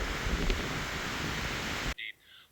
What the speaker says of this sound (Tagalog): Mahangin ang panahon.